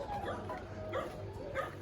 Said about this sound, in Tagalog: Yan siya ng aso.